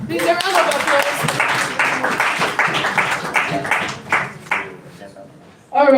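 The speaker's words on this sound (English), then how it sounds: "Please, a round of applause." Clapping from a small audience at a university chapter event, brisk and fairly close, mixed with voices, tapering off toward the end before a sudden final sound.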